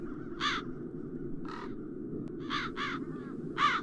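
Crows in Satinavs Ketten caw repeatedly, with several harsh calls spaced out and a few coming in quick pairs, all over a steady low ambient hum.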